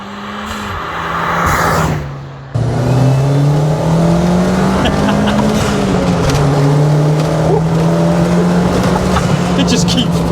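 A Ford Fiesta Mk4 fitted with a Mk7 ST180 turbo engine accelerates, its loud, sustained engine note rising and holding steady inside the car while occupants talk over it.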